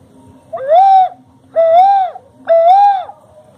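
A handmade bird-call whistle imitating the picazuro pigeon (Asa Branca) gives three loud, close, rising-and-falling cooing hoots at an even pace, with no voices over them.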